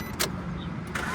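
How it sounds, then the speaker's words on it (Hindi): A car engine cranks and catches, steady mid-range engine noise running throughout with brief sharp bursts near the start and end, heard close and alone without voices. "गाड़ी स्टार्ट हो गई।"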